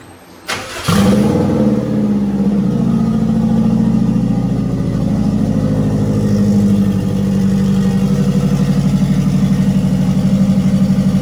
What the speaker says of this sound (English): But it still fires up every time I turn that key